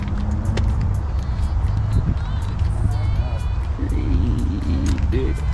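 A supercharged LP9 engine in a sports car idles and rumbles steadily at an automotive open house, close by, while people talk over it.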